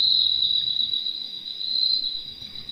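Continuous, steady cricket chirping, a high shrill trill sustained evenly throughout with no voices or other sounds.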